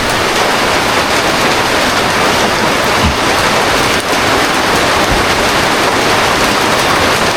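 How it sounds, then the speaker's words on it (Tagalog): Heavy rain pours steadily and loudly, a dense continuous wash of drops close by with no voices over it. "Pambihirang ulan na to."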